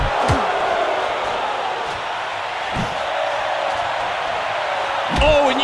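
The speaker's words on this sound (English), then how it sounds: "you can hear the crowd respond as a haymaker lands to the body" Crowd in a boxing video game reacting as a haymaker lands to the body, a steady broad roar of arena noise rising briefly near the end with a voice over it.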